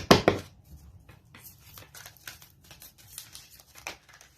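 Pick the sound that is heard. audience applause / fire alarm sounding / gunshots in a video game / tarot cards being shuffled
tarot cards being shuffled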